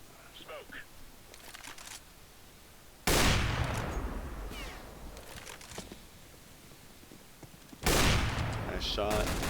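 Gunfire in a first-person shooter video game: two loud, close bursts of shots hit abruptly several seconds apart, each trailing into rattling echoes, with quieter game noise and a talking voice in between.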